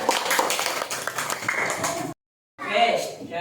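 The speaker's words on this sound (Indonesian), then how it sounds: "tepuk tangan buat kelompok 1" A class claps for a student group, with lively close clapping mixed with chatter and voices, then a brief silent cut before more clapping and talk resume.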